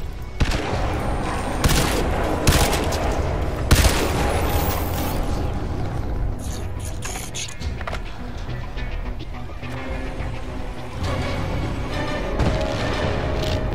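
Gunfire in the video game Crysis 2, with bursts of shots, booms and clattering mechanical effects scattered across the stretch over a steady busy game soundscape, no talking.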